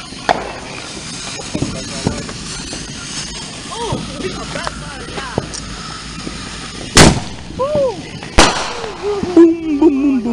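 Fireworks going off outdoors: sharp bangs and pops ring out across the clip, with two loud blasts near the middle and whistling rockets toward the end, while people talk and react throughout.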